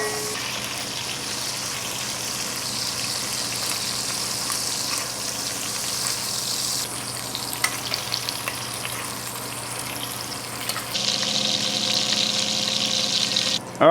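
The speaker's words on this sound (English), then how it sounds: "I'm just gonna finish browning this." Pork belly sizzles steadily in a hot pan as it browns, a constant loud frying hiss with occasional stirring scrapes and a brief splash of running water near the end.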